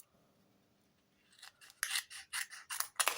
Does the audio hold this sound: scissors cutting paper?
yes